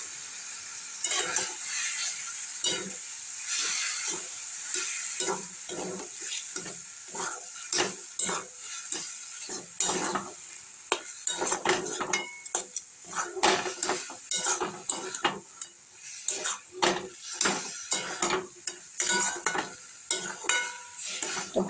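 Banana flower paste frying in mustard oil, stirred in a pan with a metal spoon: frequent clinks and scrapes of utensil against cookware over a soft sizzle, close and without talk.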